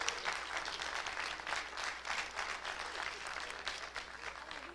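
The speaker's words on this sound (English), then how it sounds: "let's give them a round of applause" Steady audience applause at a scholarship quiz challenge, a dense wash of clapping that holds at an even, moderate level throughout without pauses.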